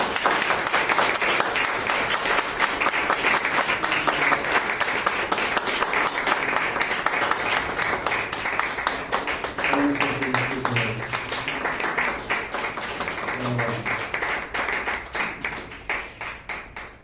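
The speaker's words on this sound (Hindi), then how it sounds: "तो क्यों ना हम दासों के लिए एक बार दिल से तालियां बजाएंगे।" An audience claps to honor guests at a ceremony, with loud dense applause that tapers gradually, while a few voices talk briefly underneath toward the middle.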